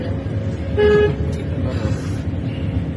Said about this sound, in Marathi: हा परत हॉर्न वाजवा